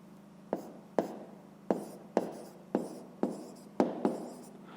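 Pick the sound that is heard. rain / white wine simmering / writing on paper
writing on paper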